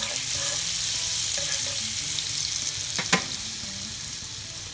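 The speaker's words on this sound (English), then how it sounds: "we're going to start cooking up our liver" Thin slices of liver sizzle loudly in hot olive oil and butter, a continuous close crackle with a single sharp clink near the end and no one speaking.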